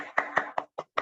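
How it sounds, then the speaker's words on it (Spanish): Five separate hand claps, spaced slightly unevenly, close and fairly loud with brief silences between them. "vamos a despedir a Pedro con un aplauso virtual"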